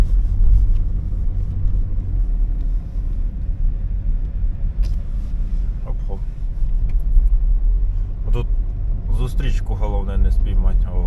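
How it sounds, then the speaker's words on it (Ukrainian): A car driving over a bumpy, potholed road: a loud, continuous low rumble of engine and tyres with occasional jolts, and a voice briefly toward the end. "По таких колдобінках пострибаємо трошки."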